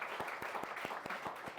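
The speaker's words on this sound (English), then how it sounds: "So put her a massive round of applause for this wonderful lady." An audience at a book event applauds the author, a steady wash of clapping with a few distinct claps standing out at a regular pace, moderately loud and without voices.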